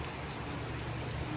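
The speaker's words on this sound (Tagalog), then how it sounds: "Umuulan pa rin." Steady rain pours down on a surface outside a small shop early in the morning during monsoon rains, a constant close hiss of drops with no voices.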